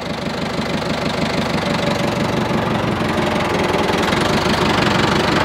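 A 40-year-old telehandler's engine runs steadily with a loud, continuous knock, a rapid rhythmic clatter over a low rumble, heard up close with no talking.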